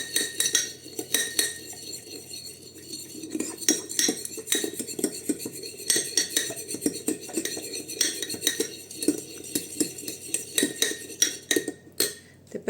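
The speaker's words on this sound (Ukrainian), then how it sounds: "Перемішуємо." A metal spoon scrapes and clinks steadily against a bowl as a mixture with castor oil is stirred, a continuous close-up clatter with no voices.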